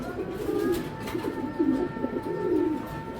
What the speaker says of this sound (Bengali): এগুলো খুবই ডেঞ্জারাস কবুতর ভাই দেখেন দর্শক একেবারে অ্যাক্টিভ কবুতর